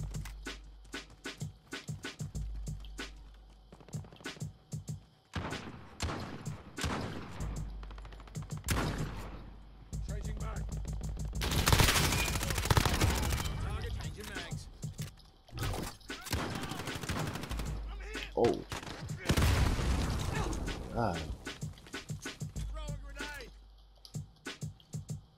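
Repeated bursts of gunfire from a shooter video game, with scattered shots and rapid fusillades through most of the stretch and two louder sustained volleys near the middle and end, while players talk over it.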